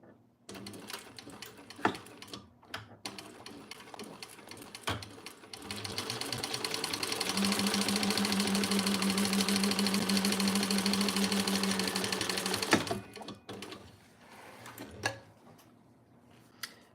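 A sewing machine runs a steady top-stitching pass for several seconds, a fast even mechanical whir with a rhythmic ticking, preceded and followed by quieter scattered handling clicks.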